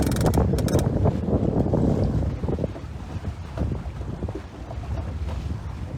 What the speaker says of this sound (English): That was a nice wind, wasn't it? We still have it.